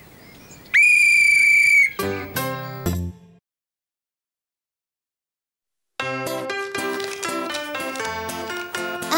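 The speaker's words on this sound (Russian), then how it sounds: "Я дам вам посвистеть свисток." A whistle gives one loud, shrill, sustained blast near the start. Short tonal music follows, then silence, then bright cartoon music.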